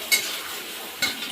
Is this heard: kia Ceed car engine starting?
no